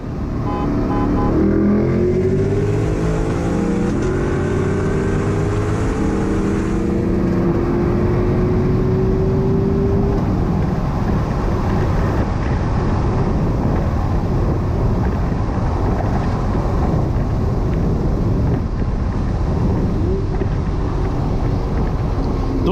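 A C8 Corvette or Lexus LC500 accelerates hard with a loud performance exhaust, rising engine tones climbing steadily in the first seconds before settling into a sustained, close, roaring drone buffeted by heavy wind noise.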